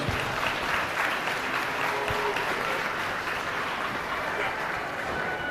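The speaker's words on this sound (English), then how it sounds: "we're going to finish this particular class with a big round of applause for Paisley" Sustained applause from a crowd at a youth steer show, dense and steady clapping without a break, moderately loud and fairly close.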